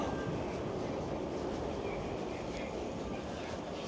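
Steady low rumble and hiss of a GO train platform in downtown Toronto, with a train idling or moving nearby and faint voices in the background.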